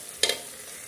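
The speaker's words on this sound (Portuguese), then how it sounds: "Deixar ele meio que fritar pra mim depois colocar a água." Food sautés in a home kitchen pan, a steady soft sizzle broken by one brief double scrape of stirring, with no talk.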